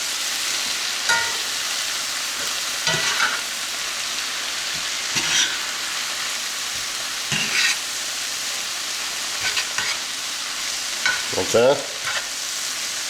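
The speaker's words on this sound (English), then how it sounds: "I'm just gonna toss it around a little bit with some tongs and get all those garlic and bacon and everything intermingled in with the kale" Kale, bacon and garlic sizzling loudly in a pan, tossed with tongs that scrape and clack every couple of seconds over the constant frying hiss, with a brief spoken remark near the end.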